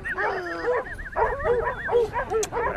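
A hunting dog tracking a wild boar trail gives repeated whimpering yips and short whines in uneven bursts, close and fairly loud, with outdoor background noise.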